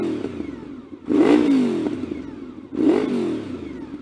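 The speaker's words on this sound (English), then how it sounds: "let's give it a little bit of a rev." A Honda VFR 750 with its gear-driven-cam V4 engine is revved twice, each throttle blip rising sharply from a loud, rough idle and falling back, close up with no talking.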